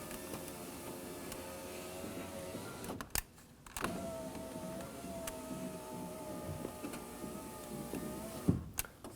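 Power window motor and regulator on a 2009-2014 Ford F-150 front door running steadily, a close continuous mechanical whine with a short pause near the middle and a brief clunk as the window reaches its stop.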